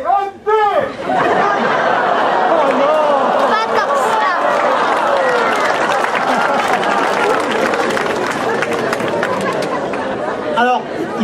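Dense audience applause mixed with crowd chatter and laughter fills a comedy show in Bormes-les-Mimosas, steady and close throughout, with a voice briefly heard at the start and again at the end.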